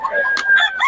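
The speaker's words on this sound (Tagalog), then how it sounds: "Mukhang maraming natirang manok si Victoria." A brief burst of chicken calls, clucks overlapping with a crowing note, close and fairly loud, at a cheap chicken market in Bocaue.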